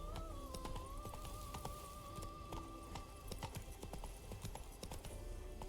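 Roach the horse gallops in The Witcher 3, a steady rapid clip-clop of hooves running throughout, close and even, with a sustained musical tone and ambient bed underneath.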